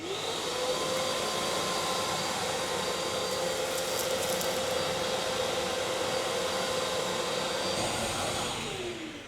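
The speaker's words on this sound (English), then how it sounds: "More vacuum, please." A vacuum cleaner runs during restoration of a 400-year-old castle ceiling in a French chateau, giving a loud, steady whooshing roar with a constant tonal whine that continues unbroken before easing slightly at the end; no one speaks.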